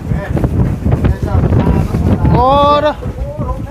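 Strong wind blowing outdoors, a loud continuous roar buffeting the microphone, while people talk over it and a brief tonal whine rises near the end.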